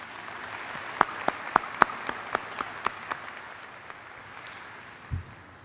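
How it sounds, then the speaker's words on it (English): A small group at a university doctoral hooding ceremony claps sparsely, a handful of distinct, fairly faint claps spaced out over a few seconds before trailing off. "Please give Ms. Olgwin another round of applause and to thank her."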